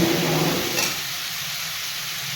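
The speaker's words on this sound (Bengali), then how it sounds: "এবারে আমি জল দিয়ে দিচ্ছি" Water goes into a hot pan of shol fish curry and sets off a loud hiss and sizzle. The burst quickly subsides to a softer, steady bubbling simmer.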